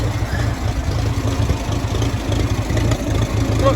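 A grey Ferguson TE20 tractor engine idles close by, its low, steady chug pulsing evenly without any break.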